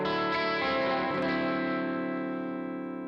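An electric guitar chord rings out through a Headrush amp modeler with a 1x12 Morgan cabinet impulse response, distorted and sustained, slowly decaying over about three seconds with no talking.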